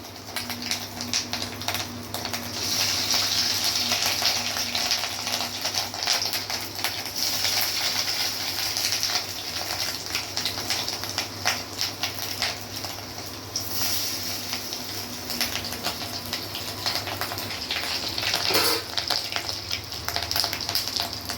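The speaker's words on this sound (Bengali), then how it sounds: "তেলটা গরম হয়ে গেছে। এখন এই যে মাছের ডিমের বড়া" Fish roe fritters, mixed with chili paste, chopped onion, garlic, salt and turmeric, fry in hot oil in a home kitchen, giving a continuous close crackling sizzle that stays loud and dense for the whole stretch, with no talking.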